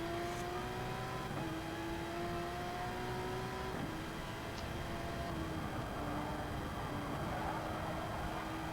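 A Porsche 911 RSR GT3 race car engine in a racing video game at Sainte-Croix, held flat out down a straight: a loud, steady, high-revving drone that climbs in pitch, with a gear change partway through.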